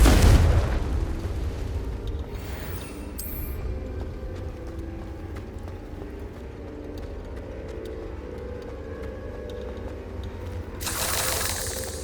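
The Confringo fire spell in Hogwarts Legacy bursts with a loud boom right at the start that fades into a low rumbling tail, and a second burst flares up near the end.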